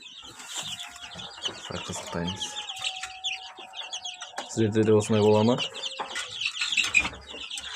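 Chickens clucking at evening feeding time in a coop, with scattered chirps and a louder burst of clucking midway, while a person talks nearby.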